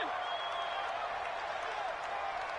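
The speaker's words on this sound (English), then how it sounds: "The crowd getting into it as we come up on a big 3rd down." A stadium crowd roars during a football game broadcast ahead of a big third down, a dense continuous wash of distant cheering and applause with a commentator talking over it.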